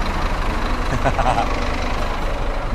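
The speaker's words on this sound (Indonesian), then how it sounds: "suara Scania enak banget ya" A heavy Scania bus engine idles with a deep, steady rumble, close by and continuous, while people talk over it.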